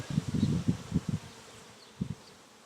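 Honey bees at an opened hive make short, faint bursts of buzzing, clustered early and then a single brief burst later, against quiet surroundings.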